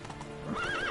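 Roach the horse in a video game, hooves drumming in a fast clip-clop gallop that runs into a rising neigh and whinny, loud and close, with no talk.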